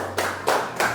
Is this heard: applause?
yes